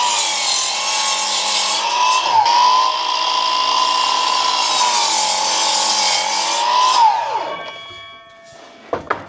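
Power saw cutting timber noggins for a stud wall, a loud close whine that dips briefly mid-cut and then winds down, followed by a few sharp knocks.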